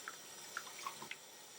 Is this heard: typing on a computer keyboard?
no